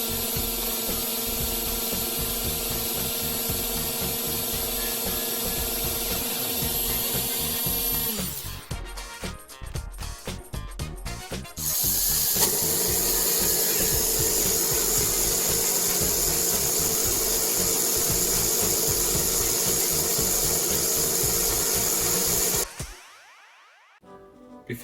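An AutoWorld Super III slot car motor whirs at a high, steady pitch, winds down and sputters in short bursts, then revs back up to a sustained loud whine before cutting off abruptly.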